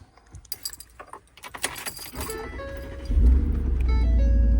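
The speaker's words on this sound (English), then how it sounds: "let's go ahead and start the truck up" Keys jingle close by, then a Ford F-150 pickup engine cranks and catches, settling into a low, steady idle.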